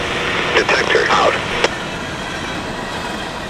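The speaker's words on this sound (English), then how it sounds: "Our train would be EO4001, empty coal out of the Stanton Energy Center in Orlando, heading back north to Indiana for another load." Empty coal train EO4001, northbound from the Stanton Energy Center in Orlando toward Indiana, rolls past as a steady wash of rail noise, with a short burst of voice-like sound early on and a sharp clank near the middle.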